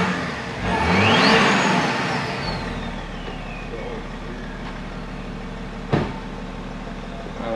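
A 2010 BMW X5 diesel with a drilled-through particulate filter revs up near the exhaust, a rising engine roar that settles to a steady idle hum, with a sharp thump near the end.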